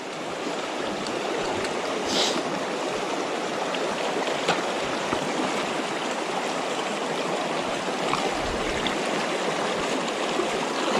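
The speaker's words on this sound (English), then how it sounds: "You can see the creek is flowing pretty well" Mission Creek flows strongly, a steady, full rushing of water close by that holds an even level throughout, with no voices.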